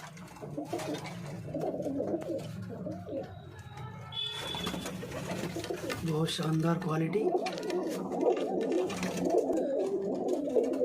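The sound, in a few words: pigeons cooing in a pigeon loft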